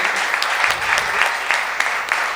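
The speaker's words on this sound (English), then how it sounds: "Big round of applause, ladies and gentlemen, for Abbas ji." An audience at a literature festival session claps steadily, a dense patter of many hands applauding together with no voices over it.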